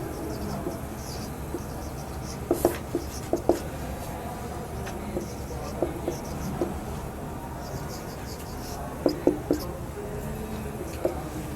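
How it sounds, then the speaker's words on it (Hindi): Chalk or marker taps and short strokes on a board come in small clusters of clicks and squeaks during an Urdu language lesson, fairly faint over a quiet room hum. "मैं आपके सामने जो है वो अल्फाज लिखूँगा"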